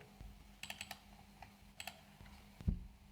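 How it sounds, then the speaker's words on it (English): Keystrokes on a computer keyboard entering the digits 1 to 9 into an Excel spreadsheet, a quick run of close, crisp taps in two short bursts with a heavier thump near the end, no voice. "Let us just type continuously from 1 to 9."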